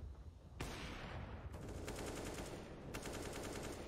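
Counter-Strike: Global Offensive gunfire in a professional match, loud bursts of rapid automatic fire in several sharp volleys over about four seconds, no speech heard.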